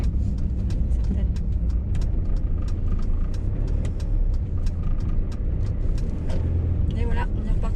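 A Sprinter 4x4 van drives a dirt track in the Monegros desert, its engine and tyres making a continuous low rumble with rattling bumps. People talk over the driving noise.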